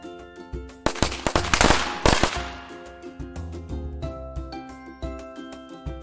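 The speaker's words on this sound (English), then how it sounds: "Firecrackers." A rapid burst of sharp firecracker pops crackles loudly, then tapers into scattered bangs over a lingering tonal background.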